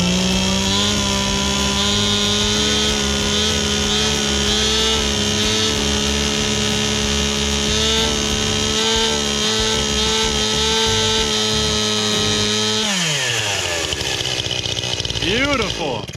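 A chainsaw fitted to a bolted cutting jig runs loud and steady as it cuts through wood, the engine pitch dropping sharply near the end as it slows.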